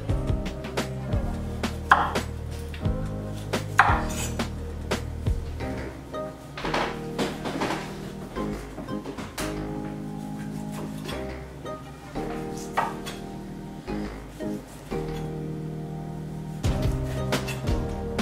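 Celery stalks and fruit such as lime being chopped on a cutting board, with repeated knife knocks running through the whole stretch amid kitchen clatter, close and fairly steady, with no talk.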